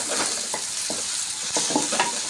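Chopped onions and green chillies are stirred into mushroom fried rice in a hot pan, a steady close sizzle broken by several soft scraping strokes of a spoon against the pan.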